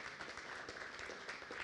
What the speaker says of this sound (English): Look at that, lovely round of applause.